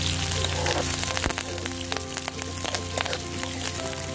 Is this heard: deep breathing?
no